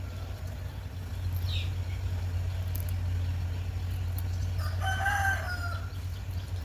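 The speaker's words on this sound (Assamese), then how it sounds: "এইফালে মুৰ্গী পোৱালিবোৰে অসুবিধা কৰি আছে" A rooster crows once, fairly faint, over a steady low engine-like hum, with a brief chirp earlier.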